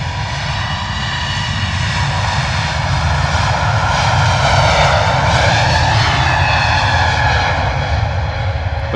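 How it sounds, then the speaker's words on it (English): A Wizz Air Airbus A321neo departing for Varna roars loudly and steadily down the runway through rotation, with a rising whine over a deep rumble that swells slightly midway. "Lovely rotation there from the Wizz Air A321neo at the door to Varna."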